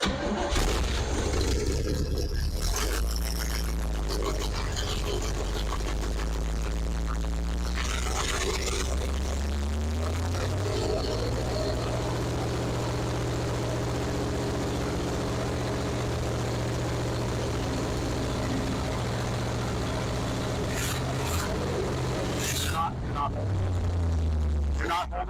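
A 1968 Chevrolet G20 van engine turns over and catches, then settles into a loud, steady idle with rising throttle, close by and continuous, with people talking over it.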